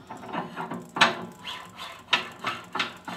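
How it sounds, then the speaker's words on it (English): Pasta extruder die being screwed onto its die sleeve by hand on a La Monferrina P6 extruder, a series of close ratcheting clicks and knocks in an uneven rhythm. "The die gets inserted into the die sleeve, as so, and then gets just screwed on by hand."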